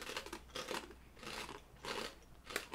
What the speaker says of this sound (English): It's very crunchy.